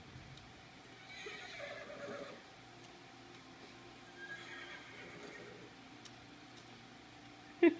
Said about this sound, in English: Push W, you can ride the horse.